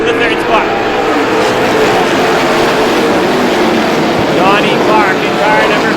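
Race cars roar continuously around Star Speedway during the PASS 150, a dense, steady engine drone with cars passing, under a commentator's ongoing play-by-play.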